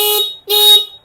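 A Hero Splendor motorcycle's factory horn gives two short, loud, nearby honks with a brief break between them, a plain shrill electric buzz-tone.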